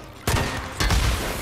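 Two loud gunshots at a gas can in the Days Gone video game: a sharp first blast, then a second about half a second later, each leaving a dense, sustained roar.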